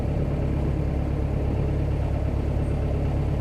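A narrowboat's diesel engine runs steadily on a canal, a low, constant idling rumble with a dense hum underneath, close by and unbroken throughout, with no speech.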